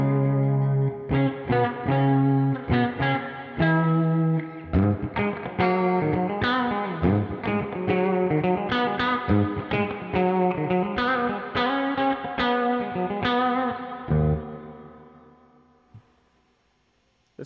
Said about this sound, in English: everybody's favorite, I guess, the spring reverb